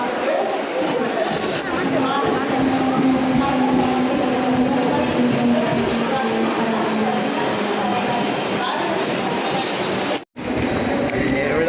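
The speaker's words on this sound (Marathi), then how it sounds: "त्या ठिकाणी आता आपण इथून ट्रेन पकडूया" Continuous rumble of a train bound for Panvel, in motion with steady rolling noise and a low hum, people chattering faintly in the background.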